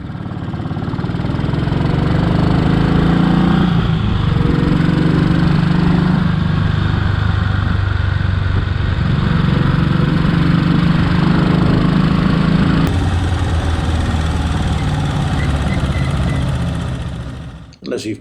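Three motorcycles without indicators ride along a road through a village, their engines droning loudly and steadily nearby with wind rush, then fading out at the end.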